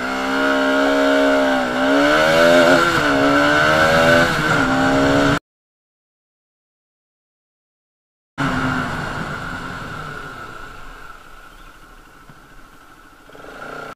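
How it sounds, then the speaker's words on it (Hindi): A Bajaj Pulsar RS 200 motorcycle accelerates hard from 0 to 60, its engine revving up through several rising gear pulls, then cut off by a gap of silence before a fading, lower engine drone returns. "अभी 0 to 60 भी बाइक जरा टेस्ट करेंगे"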